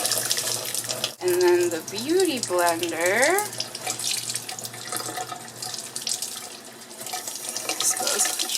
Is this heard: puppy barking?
no